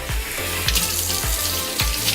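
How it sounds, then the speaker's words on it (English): Tap water runs steadily through a long animal intestine held in a kitchen sink while the innards are rinsed, with a continuous splashing rush broken by low gurgling surges about every half second. "So I just run the water."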